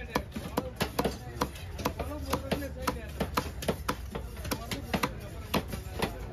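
A big cobia fish is hacked apart with a knife at the Kasimedu fish market, giving quick rhythmic chopping thuds, steady and fairly close, while people talk in the background.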